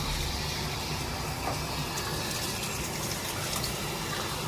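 Warm water pours steadily over rice held in a strainer, a continuous broad splashing rush at moderate level without breaks.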